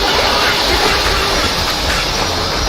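A train rolls on rails in a video game with a loud, continuous rumble and hiss that stays steady throughout.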